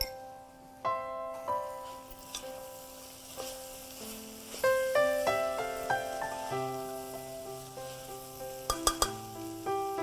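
Paneer fries in a pan, a continuous sizzle broken by clinks and scrapes from stirring and a few sharp utensil taps near the end, close and fairly quiet, with no talking.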